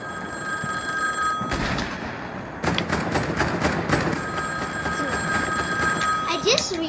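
A phone booth rings in a video game, a steady electronic bell trilling over a few seconds amid game noise and thuds, with players talking over it.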